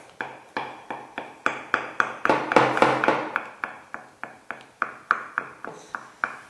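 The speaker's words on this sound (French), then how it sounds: "vous piquez votre tarte. Votre pâte à l'aide d'une fourchette." A fork pricks tart pastry dough in a pan, bottom and edges, giving a steady series of close, crisp taps about two or three per second, alone without talk.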